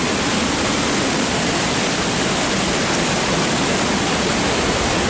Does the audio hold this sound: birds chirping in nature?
no